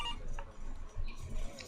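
A desk telephone rings as an audio drama sound effect, with short repeated electronic tones that are fairly quiet and close.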